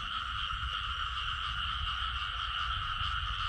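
Steady night chorus of frogs and insects in a rural Mekong Delta field, a continuous layered trilling drone at even loudness with no talk.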